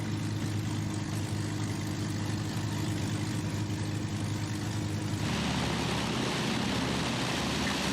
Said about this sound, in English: move the throttle to fully closed and check the minimum idling RPM before returning it back to 1200 RPM